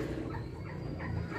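Domestic fowl, likely a turkey, gobbles and calls in a low, fairly faint outdoor scene with continuous background noise.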